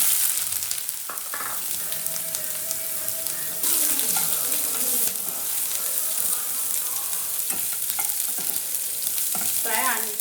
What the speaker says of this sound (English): Add cleaned and washed ginger.